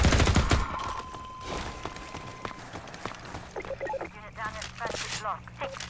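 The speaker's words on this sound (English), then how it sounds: "Oh, another machine gun." A machine gun in the Half-Life 2 MMod game fires a quick burst of rapid shots near the start, and scattered impacts follow while someone talks over the action.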